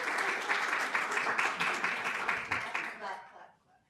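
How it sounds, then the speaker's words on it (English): An audience at a history session on women of the American frontier applauds, a warm, dense burst of clapping from a room full of people that holds steady for about three seconds before quickly dying away. "Clap, clap."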